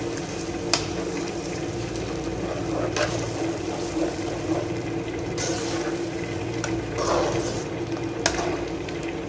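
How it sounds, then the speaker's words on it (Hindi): Onion, tomato, green chilli and ginger-garlic paste fry in a pan for a dhaba-style potato and spinach curry, giving a steady close sizzle with occasional scraping stirs and no talk. "इसको थोड़ी देर भून लेंगे, टमाटरों का पानी खुश्क हो जाए"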